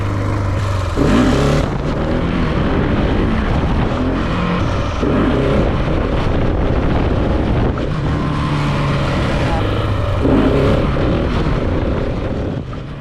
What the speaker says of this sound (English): couple more wheelies on this closed road